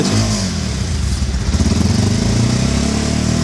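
A used Bajaj Pulsar motorcycle engine runs steadily up close, a loud continuous mid-pitched rumble with a slight rise in revs partway through and no talk.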